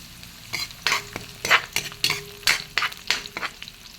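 Garlic sautéing in a pan for balbacua, with a spoon or spatula scraping and stirring in repeated bursts over a low sizzle, close and fairly loud, no talking.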